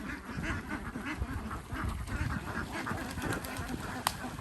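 Egg-laying ducks quack repeatedly at close range by a farm pond in Surin, Thailand, several birds calling over one another in a steady, busy chatter with low rustling underneath.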